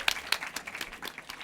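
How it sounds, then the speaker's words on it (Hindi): A short burst of scattered applause at a quiz competition for a team's participation, a few people clapping irregularly and fairly close, fading within a second and a half. "फिर भी पार्टिसिपेशन के लिए जोरदार तालियां।"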